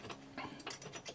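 Ratchet working a bolt on a Sprinter van armrest, a quick run of sharp mechanical clicks in short bursts, close and fairly quiet with no talk.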